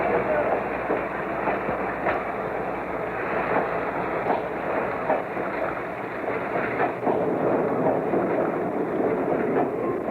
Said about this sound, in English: Long lines of freight cars glide back and forth over the many switches,